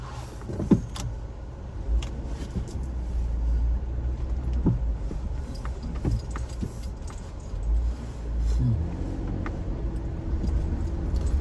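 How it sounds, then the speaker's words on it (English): A car drives slowly around a lakeside neighborhood, heard from inside as a steady low engine and road rumble with occasional small clicks and rattles, and no talking. "Let's go take a drive around the neighborhood."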